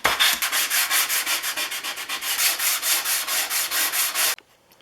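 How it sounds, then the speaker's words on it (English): Rhythmic back-and-forth rasping of a Stanley Bed Rock 607 jointer plane iron rubbed on a sanding block, loud and close, about a dozen strokes before it stops abruptly. "That's why I'm just going with the sanding block."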